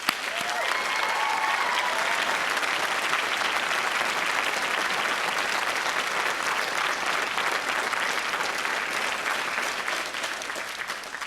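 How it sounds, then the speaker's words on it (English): A large crowd at the MCAD Spring 2013 college commencement ceremony claps steadily for about eleven seconds, a thick, even roar of applause that eases slightly toward the end. "Please give a big round of applause for your family."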